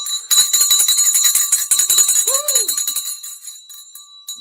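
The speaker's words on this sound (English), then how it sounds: "take those earplugs out if you don't want to hear the bell." A stock market closing bell rings loud and close, a continuous rapid metallic ringing that lasts about three seconds and then fades away.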